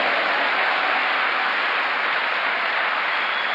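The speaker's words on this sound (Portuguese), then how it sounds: "dê um aplauso bem forte ao Senhor." A church congregation applauds together during a Sunday worship service, producing a steady, dense wash of clapping that stays loud and even throughout, with no pauses.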